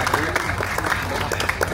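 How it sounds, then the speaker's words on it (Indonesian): An audience at a Betawi community celebration in Rawabelong claps steadily, a dense patter of many hands that continues throughout under a loud speaking voice. "Tepuk tangannya kurang kenceng deh."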